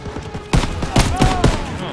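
Gunfire crackles in Call of Duty WWII as several sharp, loud shots land about a quarter second apart, ringing against battlefield noise while a voice talks underneath.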